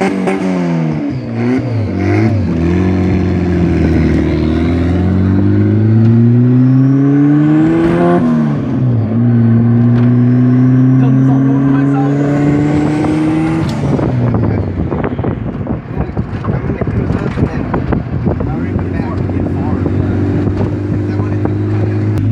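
A sleeved, fully built turbocharged Honda B16 running 5 psi revs hard in repeated climbing pulls, engine tone rising and dropping loudly and close, then settling into a rough, choppy idle.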